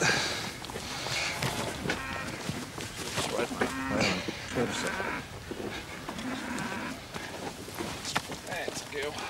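Cattle on poor pasture low and moo at a distance while people talk over them, with hoof movement and rustling running beneath throughout.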